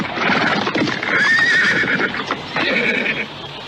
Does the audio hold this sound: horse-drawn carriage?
yes